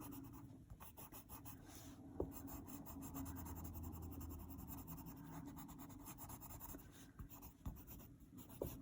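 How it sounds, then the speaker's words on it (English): Three colored pencils held together shade and burnish paper in an adult coloring book, producing a faint steady scratchy rubbing with quick back-and-forth strokes and no speech. "I'm just holding these 3 pencils in my hand and going over the areas until I like the effect it gets"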